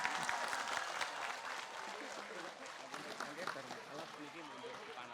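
Faint, distant clapping from a crowd at an Islamic religious gathering in Taiwan, an even patter that carries on under ongoing talk.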